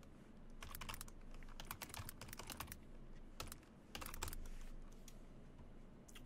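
Fast, steady clatter of keys on a computer keyboard as a username is entered, with bursts of keystrokes separated by short pauses, close and clear with no talking.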